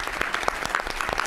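Brief applause from the audience at a California gubernatorial candidate forum, a quick run of close, distinct claps.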